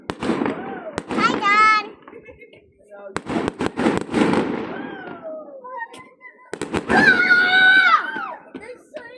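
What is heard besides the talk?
fireworks exploding on Bonfire Night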